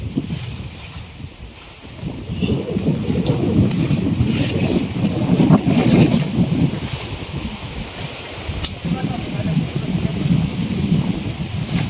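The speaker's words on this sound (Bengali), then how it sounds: "আজকে বাতাস প্রচুর বাতাস" Strong wind blows outdoors near a patch of jungle, a low, rumbling buffeting that swells and eases in gusts for the whole stretch, fairly close, with no voices.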